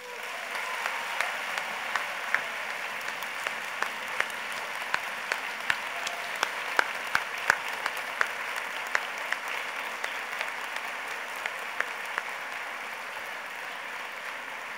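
Applause for Congressman John Lewis at a medical school commencement, a steady wash of crowd clapping from a large audience with individual sharp claps standing out, continuous throughout.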